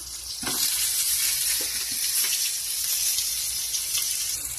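Garlic, onion and tomato sautéing in a hot pan, giving a steady bright sizzle and crackle that carries on close and loud with no talking.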